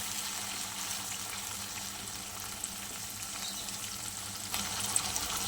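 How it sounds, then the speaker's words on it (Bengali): Chili chicken frying lightly in a pan, a steady soft sizzle throughout with a faint clink near the end, no talking. "চলো হালকা ভেজে নিই।"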